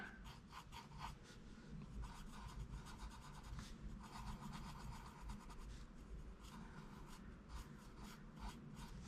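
A pencil scratches steadily across a sheet of paper cushioned by a few extra sheets beneath, a soft, close, continuous rasp broken by short rhythmic strokes, with no voices.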